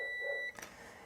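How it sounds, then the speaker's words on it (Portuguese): A digital multimeter on its continuity setting gives a steady half-second beep as its probes touch an inductor coil, then cuts off with a faint click, close and fairly quiet. "que eu posso vir aqui na escala de BIP e encostar as pontas, que vai apitar"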